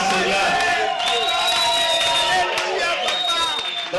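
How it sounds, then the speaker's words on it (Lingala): A church congregation shouts and cheers joyfully in praise of the Lord, a dense continuous roar of many voices with high whoops rising above it, loud and close throughout. "Ce sont des cris de joie pour la gloire du Seigneur."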